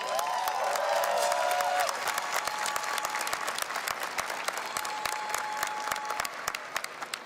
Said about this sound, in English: So graduates, let's please give your families a round of applause.